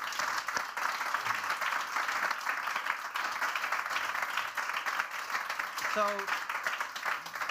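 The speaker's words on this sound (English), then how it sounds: "Big applause, please." Applause for the panelists at the close of a Swiss radio astronomy event, a steady spread of clapping across a hall with a brief word spoken over it and a faint tonal blip near the end.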